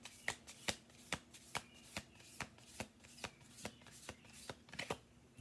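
Rapid riffling of an oracle card deck, a dozen or so crisp snaps in a steady rhythm, close by and fairly quiet, with a faint low hum underneath.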